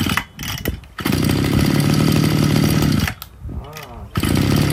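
A Mitsubishi TL261 26cc brush cutter engine with a 33 mm cylinder runs loud and close, a steady buzzing whine that dips briefly near the start and again past the three-second mark before revving back up.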